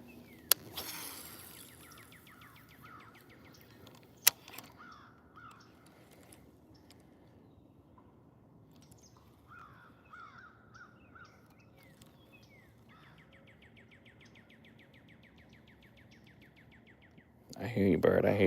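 A crow caws by a pond in North Carolina, several short calls in brief bursts against quiet outdoor ambience, with a few sharp knocks and a loud rustle at the end.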